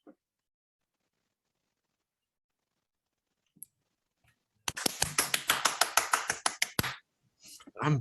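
Rapid tapping used to imitate wild applause, a dense burst of quick sharp taps lasting a couple of seconds after a few isolated clicks, close and fairly loud, with a brief noise at the end.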